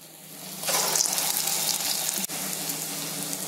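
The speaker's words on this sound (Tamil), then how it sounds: "இப்ப எண்ணெய் காஞ்சிடுச்சு வடை போட்டுக்கலாம்" Medu vada batter dropped into hot oil, a sudden loud bubbling sizzle that swells up and keeps frying steadily, close by with no talking.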